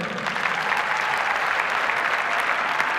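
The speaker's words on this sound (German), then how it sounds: "Nochmal Applaus bitte." Sustained, loud audience applause for the winner of a European youth competition, an even wash of clapping throughout.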